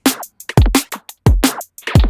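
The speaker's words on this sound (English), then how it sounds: "now I will re-enable the chain that creates those glitches" Glitchy processed sound from a waveshaping plugin chain, heard as choppy, stuttering bursts with abrupt starts and cut-offs and sharp low thumps, loud and without any voice.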